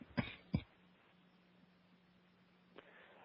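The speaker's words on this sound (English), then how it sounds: "I think you were coughing" Two quick coughs close together at the start, then a faint low hum and a small throat sound near the end, quiet and close on a call line.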